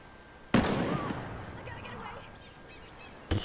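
A single loud ACS-12 shotgun blast in Ghost Recon Breakpoint rings out and decays over a couple of seconds, followed by the start of another sharp shot at the end.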